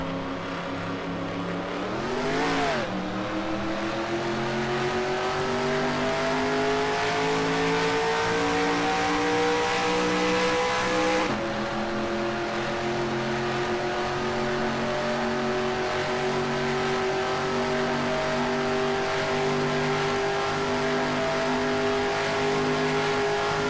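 A NASCAR Racing 2003 stock car engine drones loud and steady, with a brief rev dip early on, then a sustained high harmonic whine as the car holds speed around the lap.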